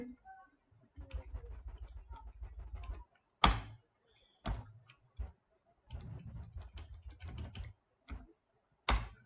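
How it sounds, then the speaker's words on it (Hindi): Computer keyboard typing during an HTML/CSS coding session, with bursts of keystrokes separated by pauses and a few sharper, isolated presses like the Enter key, close and moderately loud. "बस खाली एंटर प्रेस करते जाइए जहां से आपको तोड़ना है"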